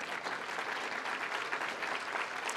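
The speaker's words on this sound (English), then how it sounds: "a round of applause for that." Keynote audience at a film festival gives a steady round of applause, a dense continuous patter of many hands clapping, moderately distant and even throughout.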